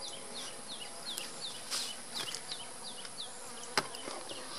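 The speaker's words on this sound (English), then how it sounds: "There's still lots and lots of bees in here." Honey bees buzz steadily and close, with individual insects whining past in quick swoops over a dense, humming background.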